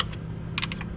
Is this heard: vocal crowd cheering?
no